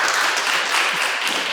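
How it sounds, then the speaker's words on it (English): An audience claps and applauds at a talk on Ethereum and NEAR, a dense, steady wash of many hands close by, lasting only a moment. "That's where you applaud."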